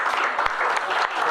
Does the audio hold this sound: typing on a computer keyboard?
no